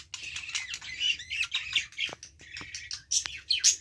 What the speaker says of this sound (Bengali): দেখো আমাদের বুলবুলি এখন খেয়ে ঘুমোচ্ছে